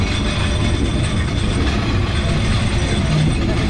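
Train running along rails on the India–Bangladesh border line near Hili, giving a loud, steady broadband rumble with rhythmic clatter and mechanical rattling throughout, with no voices.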